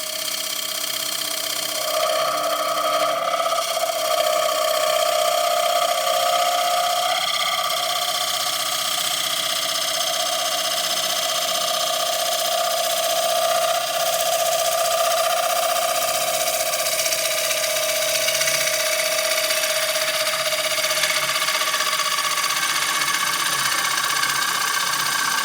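A scraper works a wooden bowl on a spinning lathe to thin its walls, a loud continuous whirring hum with a steady high-pitched scraping tone throughout, no talk.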